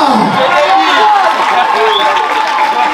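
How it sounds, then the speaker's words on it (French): Audience at a school event in Pointe-Noire, Congo, applauds and cheers steadily, a dense crowd wash of clapping and voices filling the whole stretch at close range. "On applaudit encore pour les deux."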